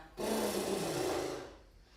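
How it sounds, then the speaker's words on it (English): A single heavy, breathy exhale pushed out through the lips during a yoga breathwork session, close and fairly loud, rising abruptly and then tapering off over about a second and a half, with no talking. "we're going to exhale through the lips, so making this sound"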